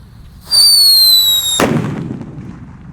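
A loud rising whistle for about a second from a jumbo whistling thunder firecracker, then a sharp bang that trails off into a fading rumble.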